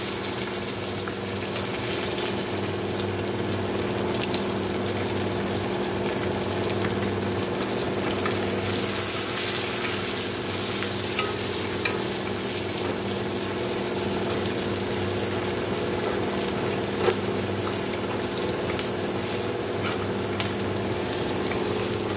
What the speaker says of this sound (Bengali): দেখো এই যে মশলাটা দিয়ে দিয়েছি, ভালো করে কষে নেবো।